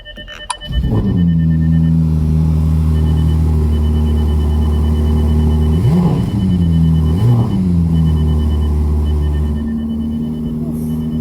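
A Mercedes G63 V8 cold start: the starter catches and the engine fires into a loud, steady high idle, with two sharp blips of revs midway before it settles back into the rumble.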